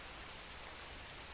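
Rain falls on a rainy afternoon as a faint, steady hiss with no distinct drops and no voices.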